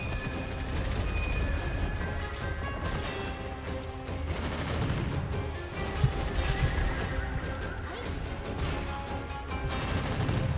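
Sustained video-game gunfire in Gunfire Reborn as shots are fired at floating eyeballs, rapid dense bursts of shooting running continuously over a busy game soundscape, steady and fairly loud throughout.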